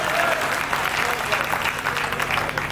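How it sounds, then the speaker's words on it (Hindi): A live audience claps steadily and densely at a Hindi comedy poetry show, the applause continuous and fairly loud throughout with no pause. "ताली बजाइए, एनर्जी मिलती है।"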